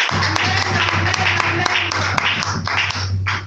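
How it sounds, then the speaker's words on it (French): A church congregation claps and cheers loudly together, dense sustained applause with a steady low hum running beneath it throughout. "Est-ce qu'on peut applaudir le Seigneur?"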